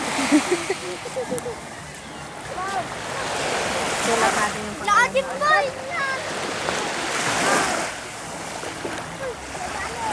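Sea waves wash up on a beach in Ilocandia, a steady roar of surf and wind noise running underneath excited voices and chatter throughout.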